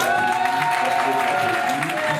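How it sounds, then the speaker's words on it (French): Audience applause at a Prestige Center and Canal Plus tour event in Gôh-Djiboua, a steady dense wash of clapping with crowd noise, while a tonal hum and some voices carry through underneath. "Vous pouvez continuer d'applaudir"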